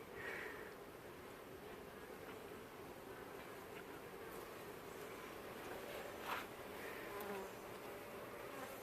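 Honey bees hum in a dense, continuous drone around a strong beehive full of natural honey, the buzzing steady and close with individual bees briefly swelling louder as they pass.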